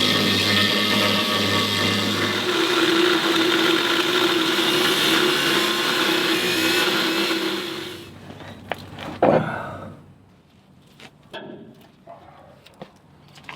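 A small angle grinder cutting into the steel hull of a trawler being prepared for sandblasting gives a loud, sustained whine for about eight seconds, then stops, leaving scattered knocks and clanks of metal.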